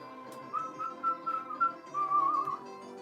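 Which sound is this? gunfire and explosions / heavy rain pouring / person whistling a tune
person whistling a tune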